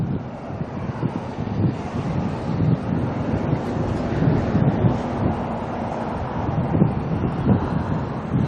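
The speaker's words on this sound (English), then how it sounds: "That wind is starting to pick up a little bit stronger." Wind buffeting a microphone outdoors at Auckland Airport, a continuous rough rumble with gusty swells, loud and close, no talk.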